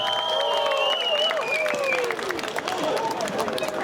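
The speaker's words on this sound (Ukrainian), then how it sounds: "підтримайте оплесками" An audience at a gala concert of a Hutsul folk festival applauds the performers, a continuous wash of clapping with crowd voices and high calls riding over it.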